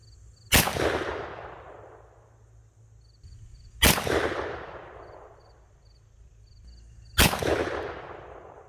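Three loud, sharp shotgun reports from Winchester Super X 2.5-inch 1/5 oz .410 slugs fired through an improved cylinder choke at a 25-yard target, evenly spaced a few seconds apart, each with a long decaying echo.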